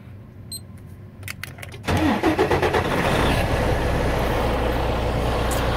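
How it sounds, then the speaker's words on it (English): A Freightliner truck engine cranks after a few faint clicks, then catches and settles into a loud, steady diesel idle that carries on to the end. "now I can start my truck without pushing down on the clutch"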